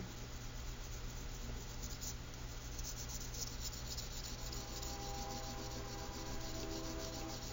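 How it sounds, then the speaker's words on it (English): A pencil held sideways rubs back and forth over paper laid on a leaf, giving a steady, continuous soft scraping texture at low level with no pauses. "So you're just going to hold the pencil sideways, and you're just going to rub over where the leaf is."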